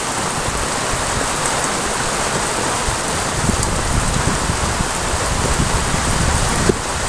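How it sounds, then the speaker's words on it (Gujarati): Heavy rain pours down steadily in a dense, loud hiss on a farm during a May downpour, unbroken throughout with no voices. "વરસાદ કેટલો બધો પડે છે જોવા, ભૂકા કાઢે અત્યારે વરસાદ"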